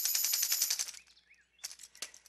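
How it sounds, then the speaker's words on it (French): A tambourine shaken by a one-man band gives a bright, rapid jingling roll for about a second, then fades to a few scattered, fainter rattles and taps. "Et je peux également jouer du tambourin."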